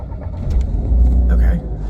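A car driving on New York City roads, heard from inside as a loud, continuous low rumble of engine and road noise with brief muffled voice sounds over it.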